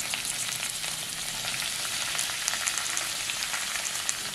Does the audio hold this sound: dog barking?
no